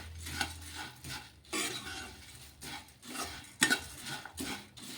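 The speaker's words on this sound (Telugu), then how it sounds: "ఇలా మొత్తం కూడాను కలిసేలాగా కలిపేసుకొని ఇలా మరమరాలకు అంతా పట్టేలాగా కలిపేసుకుందాము" A spoon stirs puffed rice mixed with egg and spices in a pan, giving a series of soft scraping sweeps with occasional light metallic clinks, fairly quiet and close.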